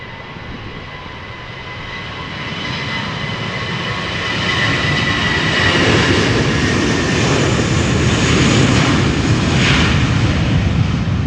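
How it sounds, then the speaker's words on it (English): A Finnair Airbus A321 jet airliner departing Amsterdam Schiphol Airport, a broad roaring jet engine rumble that swells steadily louder over about eleven seconds and holds, heard alone without talk. "A321 going to Helsinki,"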